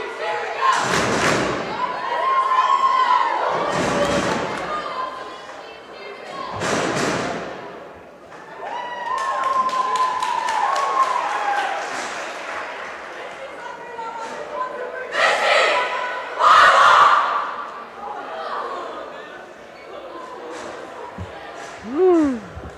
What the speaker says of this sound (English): as I'm sure you guys can hear, we've got our current cheer going on